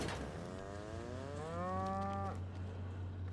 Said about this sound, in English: A woolly cow.